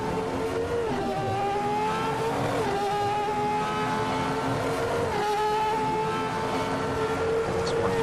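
A Ferrari F310 Formula One car in the Assetto Corsa racing game screams continuously at high revs on an installation lap, its pitch dropping sharply at two gear changes before climbing again; loud, steady and close, with no talking.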